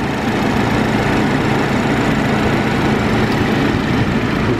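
A 2018 BMW 330i xDrive's 2.0-liter inline four-cylinder engine idles steadily and close by, a continuous even hum with no change in pace and no speech.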